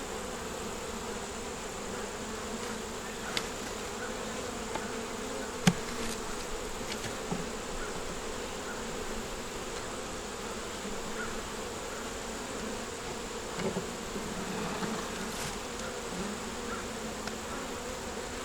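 Honey bees buzz steadily in an open nuc hive during an inspection, a dense continuous hum close by with occasional faint knocks and no voices.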